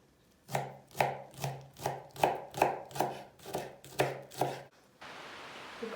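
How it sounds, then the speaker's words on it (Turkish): A knife finely chops leeks on a cutting board, about nine crisp, evenly spaced thuds, close and clear, followed by a faint hiss. "İnce ince dikkatli şekilde kıyalım."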